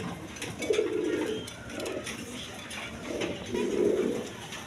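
A young red checker pigeon gives soft, low coos in two drawn-out bursts against a faint background hum.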